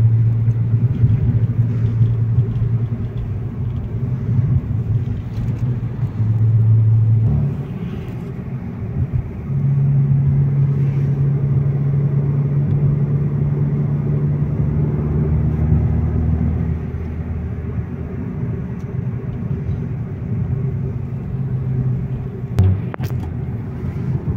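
A Hyundai i20 N Performance hatchback accelerates hard, its engine a loud, steady rumble with tone shifts as it climbs through gears, heard from inside the car with no talk over it.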